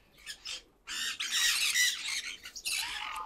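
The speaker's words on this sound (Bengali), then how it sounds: "পাইনাপেল কনিউররা আছে।" Shrill, harsh squawks from pineapple conure parrots come close and loud in overlapping bursts, nearly continuous after a brief pause, with no talk.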